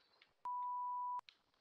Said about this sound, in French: Veuillez laisser un message après le bip sonore.